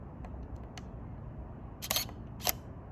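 A camera shutter fires at 1/100 of a second, two sharp mechanical clicks close by, the second crisper, over a quiet room hum.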